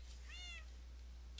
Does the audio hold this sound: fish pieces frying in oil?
no